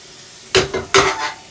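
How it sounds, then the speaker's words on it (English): Lamb mince sizzles in oil in a pan while being flipped with a utensil, two short bursts of scraping and hissing close by, with no talk. "As that side cooks, we're going to flip it over."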